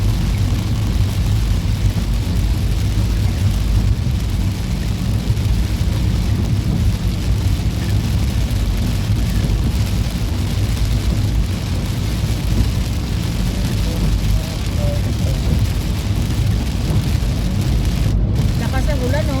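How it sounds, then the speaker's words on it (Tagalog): Heavy rain pours in a dense, loud, continuous roar with low rumbling thunder mixed in, steady for the whole stretch. "Lakas ng ulan, no?"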